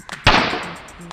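A single sharp bang from a homemade matchbox firecracker set off by one hammer blow on a nail, loud and close, with a short decaying rattle afterward.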